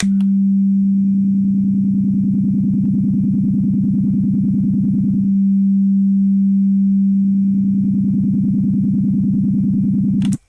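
A steady sine tone drones, then takes on a wavering, beating chorus shimmer, drops back to the plain tone, and the shimmer returns before cutting off.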